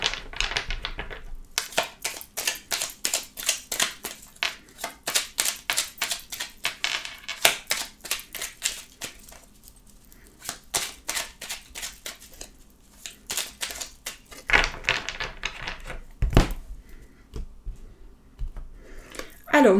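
A deck of oracle cards is shuffled by hand, a long run of crisp rapid riffling and flicking that sounds close and keeps going in quick bursts with short pauses between them.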